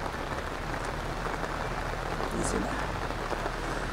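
Steady rain falls outdoors at a cattle shelter, a dense continuous hiss close by with no breaks, and faint voices murmur underneath.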